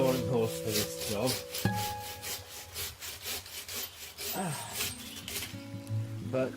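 A BAHCO 24-inch bow saw cuts through wooden posts outdoors, steady rasping back-and-forth strokes in a quick regular rhythm, close and moderately loud, with faint background noise.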